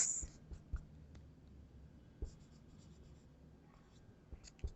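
A pen writing on paper, with soft scratchy strokes and a few small taps, faint and close in a quiet room with no talking.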